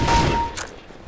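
A burst of rapid gunfire from Counter-Strike: Global Offensive on a deathmatch map, a loud clattering volley that cuts off quickly, leaving a short faint echo.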